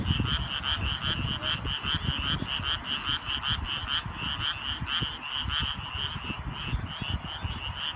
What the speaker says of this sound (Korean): 이 밤에는 청개구리와 수원 청개구리가 같이 노래를 해요.